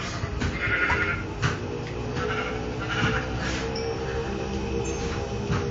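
Several sheep bleat in short, repeated cries over a steady background hum in Minecraft Xbox One Edition, moderately loud and fairly close.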